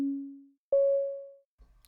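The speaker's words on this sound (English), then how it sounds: "let's try using a sine wave." A synthesizer's first oscillator set to a pure sine wave plays two clean, smooth tones one after the other, the first lower and the second higher, each fading out, followed by a faint thump.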